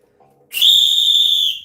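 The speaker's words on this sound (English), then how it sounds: "Where is my whistle?" A single loud whistle is blown close by as a sustained, shrill blast lasting about a second, after a faint murmur.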